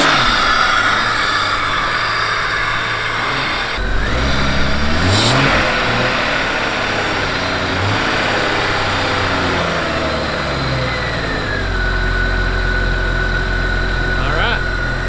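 A Jeepster Commando engine catches and runs with a steady, rough mid-pitched idle and occasional revs, close and loud, with a brief cranking burst near the start and a person talking over it at times.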